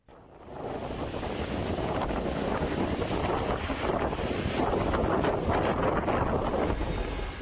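Strong gusting wind roars steadily across the microphone throughout, a dense, continuous outdoor rush during a windstorm that swept across streets and toppled parked motorcycles in East Java.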